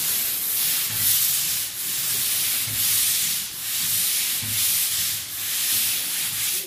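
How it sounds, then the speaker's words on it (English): Walls being sanded with a sanding head before painting, a steady rasping rub in repeated strokes roughly every second, close and loud with no talking. "We got a sanding head because we want to sand the walls up and down before we paint them."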